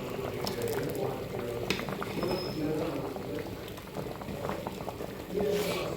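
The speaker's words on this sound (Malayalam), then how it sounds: "ഇത് തിളയ്ക്കുന്നുണ്ട് കേട്ടോ, നന്നായിട്ട് തിളയ്ക്കുന്നുണ്ട്" Milk powder payasam (pradhaman) with coconut milk bubbles steadily in a pan, a continuous close, busy simmering rumble and popping with no pause, with no talking.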